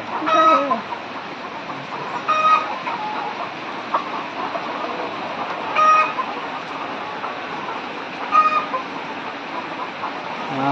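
Chickens in a poultry house on a very hot day, with water sprayed overhead to cool them, cluck steadily, and louder calls or crows burst out every few seconds over a droning background.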